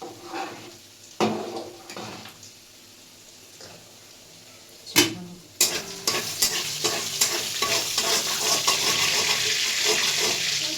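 Vegetables hitting hot mustard oil in a kadai, a loud sizzle building and holding steady with clattering stirs, close by and without talk.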